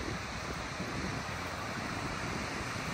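Pacific Ocean surf rolling onto a sandy beach on a foggy, mild day in Olympic National Park: a continuous broadband roar mixed with gusty wind buffeting the microphone, with no distinct wave breaks standing out.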